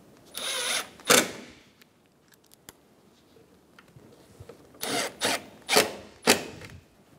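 Power tool driving bolts while fitting the AC condenser and receiver drier on a 2012-2020 Chevrolet Sonic: several short bursts of whirring, close and loud, separated by quiet gaps and small clicks of handling.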